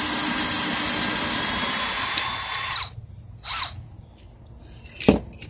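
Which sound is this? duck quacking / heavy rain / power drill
power drill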